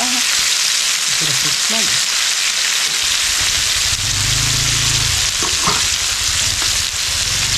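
Kalshi river fish, Kundapura style, frying in a pan with curry leaves, giving a steady, loud hiss and crackle of hot oil that fills the whole stretch, with brief stirring scrapes mixed in.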